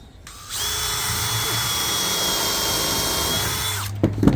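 A drill bores a pilot hole into an 18mm MDF cabinet joint, a steady close whirring whine lasting several seconds before it cuts off with a few small knocks.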